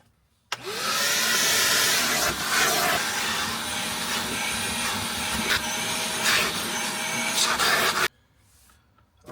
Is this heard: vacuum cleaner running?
yes